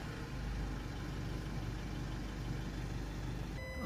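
Jaguar F-Pace 2.0 diesel engine running steadily close by, a low continuous rumble that holds level throughout with no clear rise in revs.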